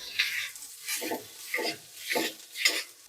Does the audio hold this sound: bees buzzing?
no